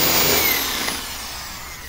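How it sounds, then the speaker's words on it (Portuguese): A power drill boring a slanted hole into a wooden branch for a hand-carved bird, a loud, close whirring drone that eases slightly as it runs, with no talk. "na hora de furar, você só é botar a broca aqui"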